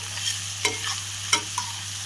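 Okra fries sizzle softly in deep oil while being stirred, a quiet hiss broken by a few distinct scraping strokes against a low steady hum.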